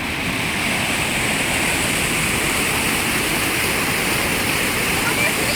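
Flash flood water pouring over the Invergowrie waterfalls, a steady, loud, full-bodied roar of rushing water heard close up and unbroken for the whole stretch, with no voices over it.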